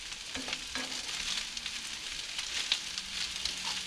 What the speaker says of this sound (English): Get some butter melting.